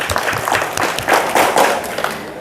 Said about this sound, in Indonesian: Oke, kita kasih tepuk tangan dulu buat Mas Bagas.